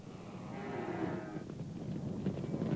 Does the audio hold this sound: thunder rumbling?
no